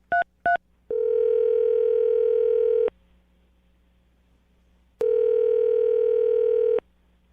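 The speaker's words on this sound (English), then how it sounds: "I'm going to dial the phone number right now" A landline telephone plays two short touch-tone beeps, followed by two long steady ringback tones separated by a pause of silence, loud and clear with no voices.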